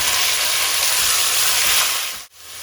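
Chicken with ginger garlic paste frying in hot oil, a loud, constant close sizzle that dips briefly near the end.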